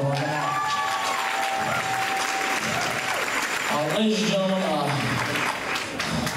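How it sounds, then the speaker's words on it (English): Audience applause with some cheering fills a live music venue, a thick wash of clapping running throughout while someone speaks over it and a voice or instrument line rises briefly. "I'd like to just give him a round of applause, everyone"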